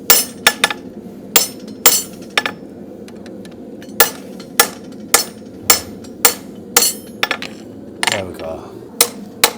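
A farrier strikes a horseshoe on an anvil with a hammer and a borrowed fuller, sharp ringing metallic blows in an irregular rhythm, loud and close, with a brief spoken remark near the end.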